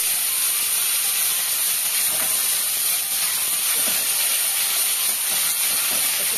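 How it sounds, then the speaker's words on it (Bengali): Vegetables hit hot oil already spluttering with mustard seeds, giving a dense, unbroken hiss that stays loud and close for the whole stretch, with faint clicks running beneath it. "ঢেলে দিলাম সবজি"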